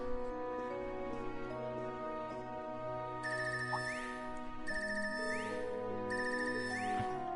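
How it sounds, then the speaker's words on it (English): Phone ringtone from the video game Trails of Cold Steel III plays alone, a repeating melodic electronic ring with chiming tones and rising sweeps, steady and fairly quiet throughout. "I've never heard this ringtone before"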